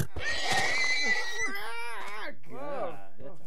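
Shrill, wavering whinny-like cries from horses in Minecraft rise and fall in quick bursts, loud and close, with a voice talking in between.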